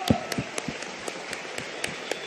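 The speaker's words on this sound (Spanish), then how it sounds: "Un fuerte aplauso para todos ustedes." An audience on a Uruguayan Sunday TV variety show claps for itself, with a few sharp, distinct claps standing out over a low, wash-like background of scattered applause.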